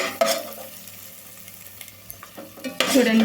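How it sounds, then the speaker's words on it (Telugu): Masala paste for a Chettinad chicken gravy frying in a pan, a crackling sizzle with scraping stirs that swell loudly near the end, and a brief spoken word. "మంచి గోల్డెన్ బ్రౌన్ కలర్ వచ్చింది దాకైతే వేపుకోవాలండి పేస్ట్ని లేకపోతే అడుగు మాడిపోతుందండి కలుపుకుంటూనే ఉండాలి"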